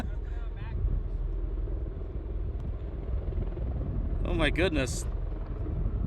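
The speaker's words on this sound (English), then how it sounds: "we're getting a wind gust actually from the Osprey" V-22 Osprey tiltrotor at an airshow, very close, giving a heavy low rumbling roar with gusting wind buffeting the microphone; a person exclaims over it near the end.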